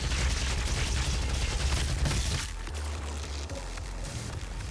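Rapid gunfire from the video game DOOM 2016 fills the first half in a dense, loud burst, then drops to a lower rumbling game background.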